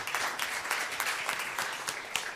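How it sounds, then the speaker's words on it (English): Audience applause at a policy forum interview, a brief burst of moderately loud, dense clapping from a crowd. "she deserves a clap as well"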